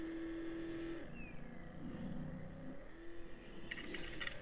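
Race car engine in the video game Trackmania Turbo: a steady, fairly quiet engine drone with tonal hum and small pitch shifts, then a brief burst of brighter noise near the end. No talk.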